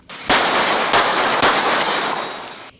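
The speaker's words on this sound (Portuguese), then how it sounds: "O som dos tiros quebrou o silêncio do bairro e despertou o medo." Three loud gunshots ring out about half a second apart in a residential neighborhood, each a sharp crack trailing into heavy, sustained echoing noise, close and dominant.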